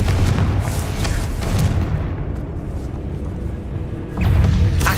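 Blasts from the Confringo fire spell in the game Hogwarts Legacy, loud booming explosions rumbling at the start, easing to a dull roar, then another heavy burst near the end, with no talk.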